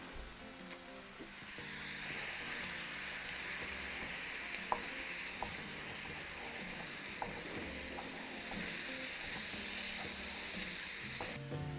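Ground meat sears with onions in a pot for an all-meat Texas-style chili, making a continuous quiet sizzle. Occasional faint clicks and scrapes sound over the steady frying.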